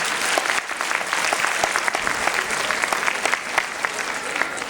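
At a Diwali community event, a crowd applauds the committee members and volunteers with dense, continuous clapping, a full wash of many hands at steady loudness throughout.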